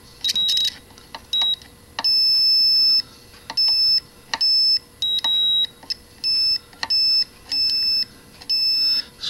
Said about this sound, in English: Low with a weird beep.